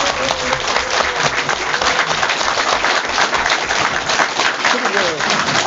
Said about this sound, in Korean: 그 고생한 분들한테 한번 위로의 또 격려의 박수 한번 드립니다.